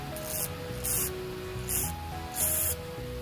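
Choke and carbon cleaner hisses out of an aerosol can into a Coleman 502 stove in four short bursts, the last one longest, close and loud over a low, steady background drone.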